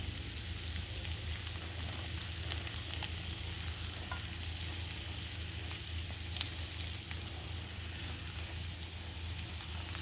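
Sabudana stirred into hot oil in a pan for fasting khichdi, a steady close, even sizzle with light crackling and the occasional scrape of a spoon, with no talking.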